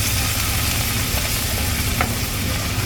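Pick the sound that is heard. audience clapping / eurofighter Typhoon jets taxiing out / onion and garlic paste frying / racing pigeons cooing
onion and garlic paste frying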